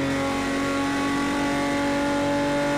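A Porsche 917 K race car engine roars at high, steady revs around Spa in Project Cars 2, loud and close with a strong sustained tone and no talk over it.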